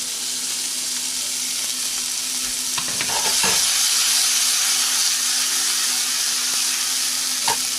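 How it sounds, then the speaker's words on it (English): Tomatoes go into a hot pan for pasta sauce with a strong, steady sizzle and hiss, a few clinks of utensils in the middle, and the frying continuing loudly to the end. "Adding in the tomatoes."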